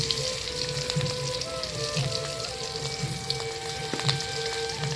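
Fish rubbed with turmeric sizzling in hot oil, a steady quiet crackle and spatter filling the whole stretch without voices.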